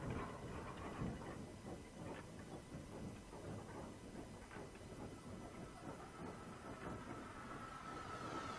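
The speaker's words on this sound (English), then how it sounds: "So we're on a train." A train ride in the video game Dragon Quest X, with steady rolling rail noise, soft rhythmic clatter and a faint hiss running continuously at low level, no voices.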